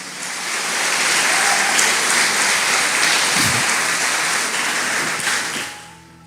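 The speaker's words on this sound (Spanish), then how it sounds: "Y dale ese fuerte aplauso a Jesús." A church congregation at a Spanish-language service gives loud, sustained applause that swells, holds steady for several seconds, then tapers off, with a faint voice briefly audible toward the end.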